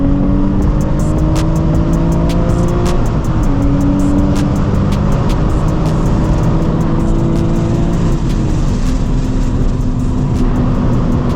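A Nissan 350Z HR pulling hard in third gear on a hilly road, heard close and loud from the cabin as a continuous engine roar rising in pitch across gear pulls.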